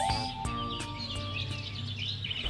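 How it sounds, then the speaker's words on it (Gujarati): Birds chirp outside, giving several short bright tweets scattered across the stretch over a soft sustained tonal background. "તેને અચાનક પક્ષીઓનો અવાજ સંભળાય છે"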